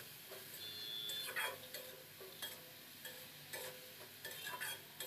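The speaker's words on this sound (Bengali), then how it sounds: "এখন নেড়ে চেড়ে ঢাকা দিয়ে রেখে দেব।" A spoon stirs cabbage cooked with a fish head in a pan, making repeated close scrapes and clinks over a soft, steady sizzle, with no one speaking.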